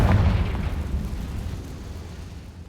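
A Confringo spell explosion in the game Hogwarts Legacy: one heavy boom at the start with a deep rumble that trails off and fades over a couple of seconds.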